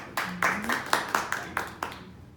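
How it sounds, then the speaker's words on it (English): A small audience at an entrepreneur round table discussion gives a brief round of applause: about eight separate claps, close together and loud at first, then thinning out, with a short murmur of voice underneath. "Give him a round of applause."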